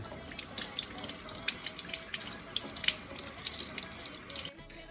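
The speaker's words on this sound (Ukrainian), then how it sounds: "Беремо рибу і промиваємо її у воді" Water runs steadily from a tap into a sink, splashing and shifting as salmon is rinsed under the stream, then cuts off near the end.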